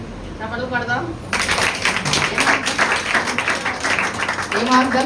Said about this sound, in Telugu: చప్పట్లు పడదాం.